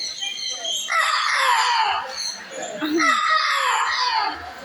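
A parrot at a bird show in a safari adventure park imitates a rooster crowing, two drawn-out raspy crowing calls in close succession, loud and near, with background crowd noise.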